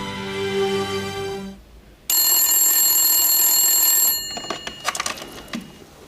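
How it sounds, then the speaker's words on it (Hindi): A phone ringtone rings in two tonal bursts, close and fairly loud, followed by a few clicks and handling noises. "तुम्हारा फोन है फरहत"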